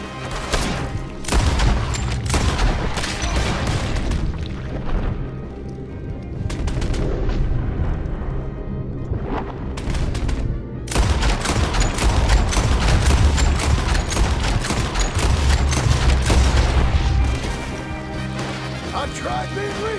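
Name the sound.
gunfight shooting in the video game Red Dead Redemption 2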